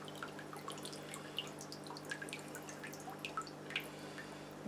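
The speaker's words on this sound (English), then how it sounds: "Let the excess water drain out of that," Water draining out of an opened Fluval 107 aquarium canister filter, heard as quiet, irregular drips and small trickles over a faint steady hum.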